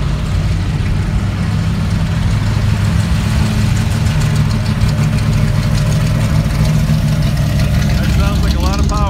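A powerful car engine idles with a deep, steady rumble at a Detroit street cruise among muscle cars, continuous throughout with crowd noise and a voice briefly speaking near the end.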